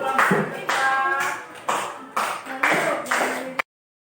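A classroom of children clap their hands in several short bursts with brief pauses between them, fairly close and loud, ending abruptly.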